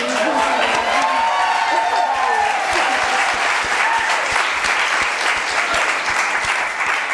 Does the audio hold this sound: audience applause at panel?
yes